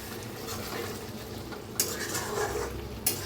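Eggplant curry being stirred in a pan, with a steady soft sizzle and scraping broken by two brief clinks of the spoon against the metal.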